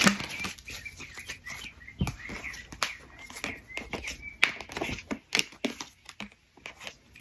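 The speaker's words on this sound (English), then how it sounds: "shuffle these up a bit." Tarot cards are shuffled by hand, a quick series of crisp riffling flutters and soft slaps close to the microphone, irregular bursts repeating over several seconds with no talking.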